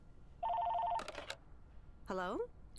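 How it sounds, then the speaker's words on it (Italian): A telephone rings in the video game Lake, a steady two-tone electronic trill lasting about half a second, followed by a short burst of clatter and then a brief sweeping game voice or tone. "Sta suonando il telefono."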